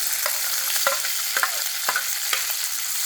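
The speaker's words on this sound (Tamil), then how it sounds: "இதை நல்லா எண்ணெயில் நல்லா வதக்கணும்" Turkey berries sautéing in oil in a kadai: a continuous sizzle broken by several distinct spatula scrapes and taps, spaced roughly every half second.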